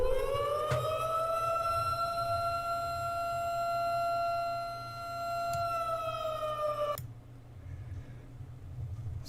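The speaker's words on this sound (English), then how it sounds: "You hear those sirens?" A siren wails steadily outside, loud and rising slightly before holding a sustained tone, then cuts off abruptly near the end, leaving background noise.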